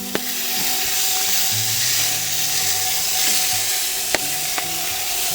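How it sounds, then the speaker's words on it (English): Spam burgers sizzle on an outdoor cooker: a steady, close frying hiss runs the whole time, with a few sharp clicks and taps over it and no one talking. "All right, we got them out here on the cooker. They're doing their thing."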